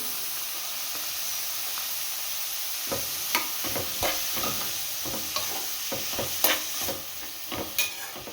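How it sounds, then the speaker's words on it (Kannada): Cut green beans and carrots stir-frying in oil with no water added, a steady hiss of sizzling with scraping stirs breaking in from about three seconds on. "ನೆಕ್ಸ್ಟು ಕಟ್ ಮಾಡಿ ಇಟ್ಕೊಂಡಿರೋಂಥ ಬೀನ್ಸು ಮತ್ತು ಕ್ಯಾರೆಟ್ನೆಲ್ಲ ಹಾಕ್ಕೊತೀನಿ."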